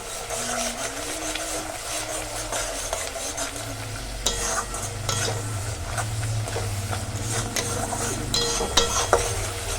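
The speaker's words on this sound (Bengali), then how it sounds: "সমান আমি ভালো করে এটাকে কষিয়ে নেব যতক্ষণ অবধি মশলাটা দিয়ে তেল না ছাড়বে।" Fish coated in spices such as chili powder sizzles loudly in oil while a utensil scrapes and clatters against the pan in busy, continuous stirring strokes, with a low steady hum beneath.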